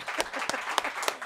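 A small studio audience applauds a quiz segment on a sports talk show, brief scattered claps with a few sharp hits, fairly close.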